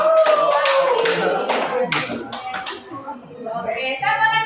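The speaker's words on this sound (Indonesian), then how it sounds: "Boleh tepuk tangan dulu." A short burst of clapping from a small group at a motivational session, scattered hand claps mixed with voices and chatter that continue over and after it.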